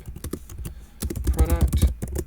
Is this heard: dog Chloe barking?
no